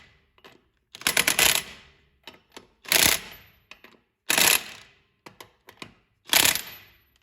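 Pneumatic impact wrench hammering wheel lug nuts in four loud, separate bursts about a second each, with short clicks and handling noises between them, at a US 60 Black Friday no-prep drag race.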